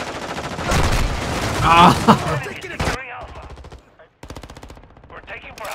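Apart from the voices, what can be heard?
gunfire in Call of Duty Modern Warfare II video game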